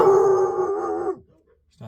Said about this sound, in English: my dog decides to bark